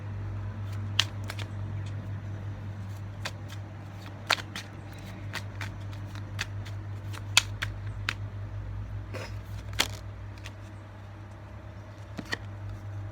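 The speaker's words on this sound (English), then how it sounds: "Let me shuffle these cards." Whispering Wood tarot cards being shuffled by hand in a quiet room, heard as soft scattered card flicks and taps over a low steady hum.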